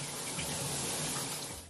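Shower water running in a steady, close hiss that continues unbroken before stopping abruptly at the end.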